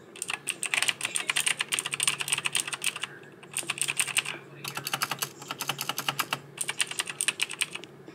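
Rapid typing on a gaming keyboard fitted with HyperX and Crystal Crown keycaps, close and fairly quiet, in bursts of quick clacky keystrokes separated by short pauses.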